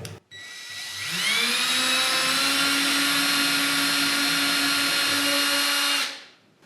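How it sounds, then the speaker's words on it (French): An electric drill fitted with a wood bit spins up and bores steadily with a high whine for about five seconds, close and loud, then stops and winds down. "la mèche à bois, moi, me permet de piquer vraiment exactement au centre de ma croix"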